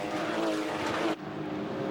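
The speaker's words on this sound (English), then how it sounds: "they sound fantastic. That distinctive Boxer six-cylinder engine that is uniquely Porsche." A Porsche boxer six-cylinder race car engine roars loud and steady during a 2004 Porsche Carrera Cup race at Bathurst, then drops abruptly in intensity as it continues at a lower level.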